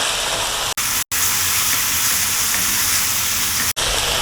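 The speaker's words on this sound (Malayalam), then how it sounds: "എല്ലാം കൂടി നമുക്ക് വഴറ്റി കൊടുക്കാം" Chili paste sautés in a pan for chilli fish, making a loud, steady hiss close up, broken by a few brief drop-outs.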